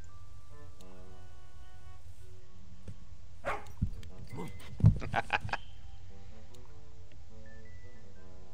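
A dog in The Little Acre game gives a short burst of yips and barks in the middle, set against quiet musical tones before and after.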